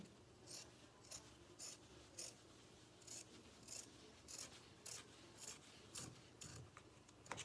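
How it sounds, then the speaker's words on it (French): Scissors cutting fabric for a nightgown tunic, a run of about a dozen crisp, regular snips close by and fairly quiet, with no talk. "Je vais couper le tissu en 2 parties égales au milieu."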